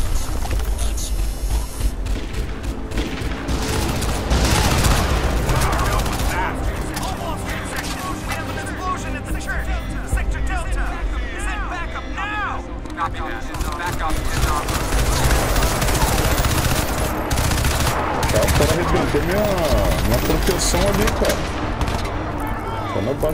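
Rapid bursts of gunfire and machine-gun fire from the Crysis 2 video game rattle almost nonstop over a dense, loud soundscape while someone talks casually over the action.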